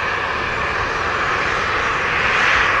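Airplane jet engine roaring steadily at Montego Bay airport in Jamaica, a loud, continuous broadband rush with no break across the moment.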